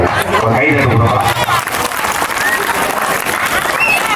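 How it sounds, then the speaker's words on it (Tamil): Audience at a Tamil devotional stage drama event clapping in a loud, dense burst of applause that swells at first and continues steadily throughout, with voices mixed into the crowd. "ஒரு கைதட்டு கொடுக்கலாம்."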